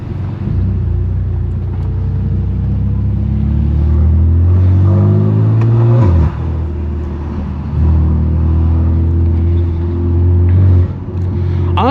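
A BMW F80 M3 Competition with a straight-pipe exhaust drones loudly at close range while cruising through city streets, its deep engine note rising and falling with throttle and shifts, no voices heard.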